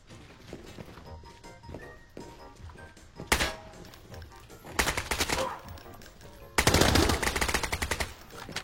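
Video game shooter gunfire, rapid automatic bursts with sharp single shots and thuds scattered between, growing louder in two dense volleys near the end.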